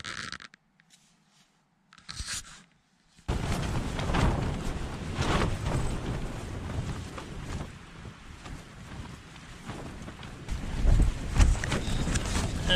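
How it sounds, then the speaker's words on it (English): Strong wind buffeting an ultralight Tarptent ProTrail tent at night, a few faint rustles and then a sudden loud, continuous roaring gust with flapping fabric that keeps surging to the end. "This is some strong wind."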